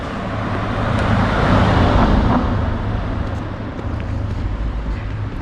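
A car drives past on a quiet uphill street in Karlovy Vary, a steady broadband roadway rumble that swells and fades over a few seconds under continuous background noise.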